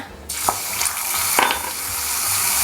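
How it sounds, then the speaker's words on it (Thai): Plain water poured into hot, darkened caramel in a pan just taken off the heat. It bursts into a loud, steady hiss that keeps sizzling and bubbling, with faint clinks on top. "ใส่น้ำเปล่าเพื่อเป็นการหยุดสีของคาราเมลค่ะ"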